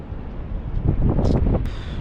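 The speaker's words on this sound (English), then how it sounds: "It is a bit windy." Steady, loud wind buffeting the microphone on a rocky shore at Apollo Bay, a low rumbling roar that swells briefly in the middle.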